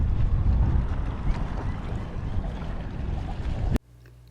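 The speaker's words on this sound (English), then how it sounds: "It's pretty damn windy" Strong wind buffeting the microphone over open water while flounder fishing, a loud rumbling roar that cuts off suddenly near the end.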